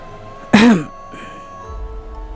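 Someone clears their throat once in a quiet indoor setting, a short, loud, rasping burst. A fainter rustle follows, then low background noise.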